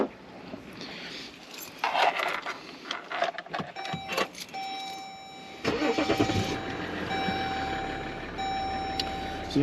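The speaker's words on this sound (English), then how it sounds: "turn the car on." A car engine is started near Uluru and Kings Canyon in the Australian outback, with a grinding crank around the six-second mark that catches into a steady idle with a faint whine, following earlier scattered movement noises.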